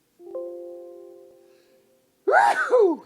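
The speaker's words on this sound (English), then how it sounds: "Hang on, a sneeze." A steady tone fades out, then after a brief silence a single loud, close sneeze bursts out, sharp and breathy.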